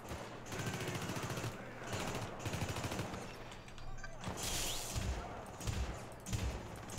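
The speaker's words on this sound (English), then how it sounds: "That's right, I'm shotgunning at range!" Shotgun blasts in the game Syndicate, repeated sharp, heavy shots fired in quick succession amid rattling gunfire, fairly quiet and busy throughout.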